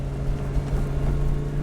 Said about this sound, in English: the engine is brutal, man.